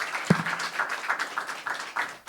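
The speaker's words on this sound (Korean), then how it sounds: "박수로 맞이하겠습니다" Scattered applause from an audience at a forum on happiness in an era of low birth rates, welcoming an emeritus sociology professor to the stage; a faint, thin patter of clapping with one sharper clap near the start.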